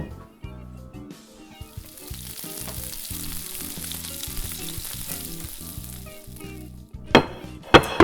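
Marinated ribeye steak sizzles and fries on a grill, a steady close crackle lasting throughout, with a few sharper pops and clatters near the end and no talking.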